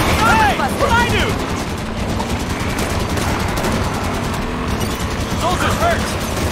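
Rapid automatic gunfire rattles steadily throughout a Halo 5: Guardians firefight on Xbox Series X, loud and continuous, with game soldiers shouting over the shots.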